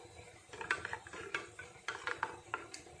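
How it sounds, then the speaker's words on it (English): A spoon stirs rasam powder into water in a jar, soft irregular scraping and light clinks against the container, quiet and close with no talking. "we are going to mix it well with the help of a spoon"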